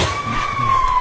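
A police siren sounds as a steady, sustained wailing tone, fairly loud and close, over low background rumble.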